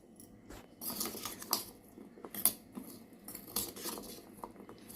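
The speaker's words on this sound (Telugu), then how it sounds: "ఇదిగోండి ఉల్లిపాయ, టమాటో ముక్కలు, కొంచెం కొత్తిమీర, ఇవన్నీ వేసి బాగా కలుపుకోవాలి" A spoon tosses chopped onion, tomato and coriander together in a bowl for palli chaat, making close, irregular clinks and scrapes of metal against the dish, with soft rustling between.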